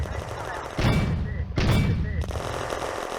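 Two heavy thumping mortar shots from a German Granatwerfer in the war game Firefight, each a deep boom with a trailing rumble, spaced under a second apart over low background noise and radio-style voices.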